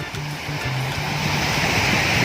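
Sea waves washing steadily onto Paniman Beach in Ternate, Cavite, a continuous loud roar of surf with wind noise and no pauses.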